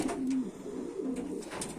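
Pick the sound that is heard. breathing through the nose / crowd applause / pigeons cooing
pigeons cooing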